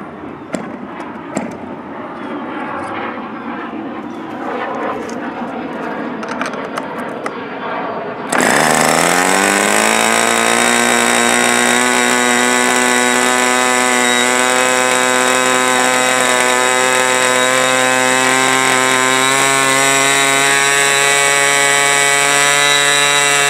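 An OS 46 SF model aircraft engine runs with no baffle fitted, starting up abruptly partway through and then holding a loud, steady, high-pitched buzzing whine at close range with no talking.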